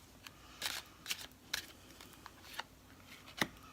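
Tarot cards are shuffled in short, crisp riffling bursts, quiet and close, with soft pauses between each flurry.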